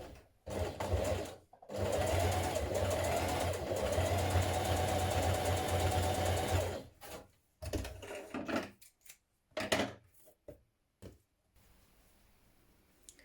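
A sewing machine runs steadily for about six seconds while top stitching dungarees from the right side, then gives several short bursts of stitching with pauses between them.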